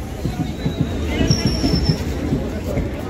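A passenger train on the Kinwat to Nanded line rumbles along steadily with rhythmic wheel clatter and a brief high wheel squeal, while voices chatter nearby throughout.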